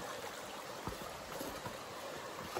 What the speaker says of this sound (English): Hold on, got another water crossing here.